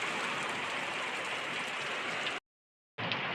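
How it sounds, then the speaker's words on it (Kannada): Heavy rain pours down steadily in a dense, loud hiss that stops abruptly for a moment before resuming. "ಭಾಳ ಜೋರು ಅಂದ್ರೆ ಭಾಳ ಜೋರು ಐತಿ ಮಳೆ"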